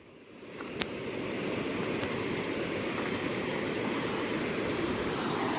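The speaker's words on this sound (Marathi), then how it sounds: "थोडा थोडा पाऊस चालू झालाय." Light rain falls steadily on a Konkan road trip near Khopi Shirgaon, a soft continuous hiss that rises within the first second and then holds evenly throughout.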